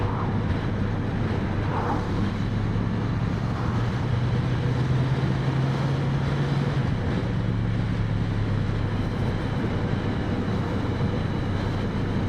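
Road traffic made up mostly of trucks on a busy commute near the M8 and A89 in Scotland, heard from inside a vehicle as a steady low rumble with passing engine drone and broadband road and wind noise throughout.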